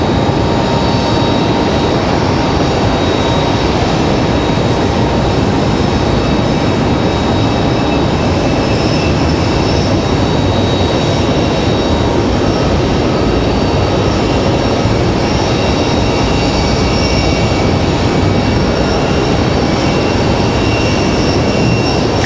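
An American Airlines Boeing 777 arrives at Raleigh-Durham airport with a loud, sustained jet roar and whine that holds steady and close throughout.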